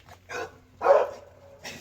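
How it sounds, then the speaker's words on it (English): A few dog barks in quick succession, moderately close, with short gaps between them and no talking. "Don't mind the dogs."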